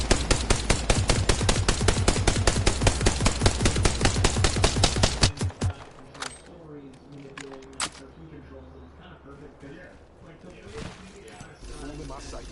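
Loud, close automatic gunfire rips out in a fast, steady stream in a video game for about five seconds. It then drops to sparse, quieter shots and background game noise with a voice underneath.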